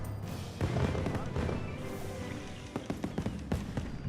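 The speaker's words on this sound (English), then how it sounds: "Yeah, the fireworks are a bit loud," Fireworks in the video game Monster Hunter Wilds go off as a series of sharp pops and bangs, several clustered near the end, over a low ambient bed at moderate loudness.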